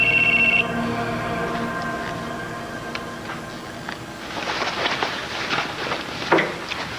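A telephone rings unanswered with a brief electronic tone, followed by low rumbling background and a few faint clicks, moderately loud and close, with no voices.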